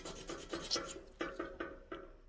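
A lotus seed is rubbed with sandpaper in a library workshop, giving a series of raspy scraping strokes in an uneven rhythm, close and fairly quiet, with no talking.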